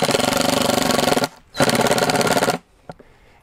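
A power driver tightens a screw through a washer into the deck pad of a foil board, with two loud, rapid rattling bursts separated by a short pause, then a single faint click.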